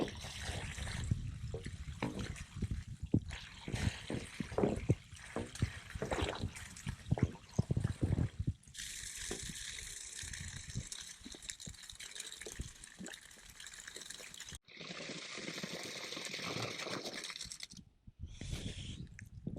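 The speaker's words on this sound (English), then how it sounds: "that water is now running cold, which indicates that it is coming all the way from the tank" Cold water runs from newly laid pipes fed by a tank on a Portuguese homestead, splashing and gushing in uneven bursts, then settling into a steadier hiss of flow with brief pauses and faint handling noises.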